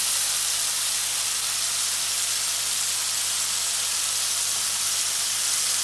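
Chicken tikka pieces sizzling in a hot pan during home cooking, a steady, even hiss of frying that holds close and constant throughout with no talking.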